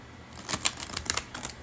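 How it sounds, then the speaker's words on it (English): A deck of oracle cards being shuffled, with quick papery riffling taps in a close, soft, rapid flutter lasting just over a second. "So let's shuffle these and get you guys a message for today."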